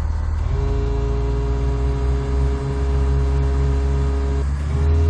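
A Cessna 172 engine at full throttle on the runway at Liverpool in Microsoft Flight Simulator X: a loud, steady droning hum with a constant pitch, running alone for the whole stretch.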